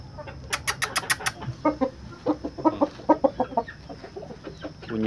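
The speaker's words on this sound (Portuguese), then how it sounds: "Bonito esse frango, viu?" Young chickens cluck in a series of short, quick, close calls that come in uneven bursts on a Brazilian farm, with a few sharp higher chirps early on and no talking.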